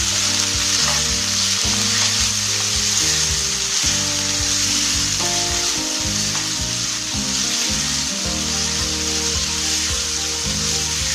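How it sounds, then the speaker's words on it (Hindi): Steady, dense sizzling of grated ginger and garlic frying in a hot pan with chicken, continuous and fairly loud, with faint music beneath it. "जो मैंने ग्रेट किया हुआ अदरक लहसुन लिया था वो इसमें शामिल करके इसको अच्छे तरीके से फ्राई करूंगी।"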